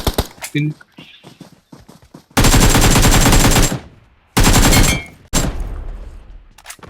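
Automatic gunfire in a battle-royale style video game lobby: two long rapid bursts of loud machine-gun fire with short single shots before them, and a voice talks between the bursts.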